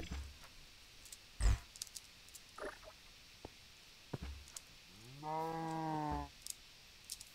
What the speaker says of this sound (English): Just found a cow.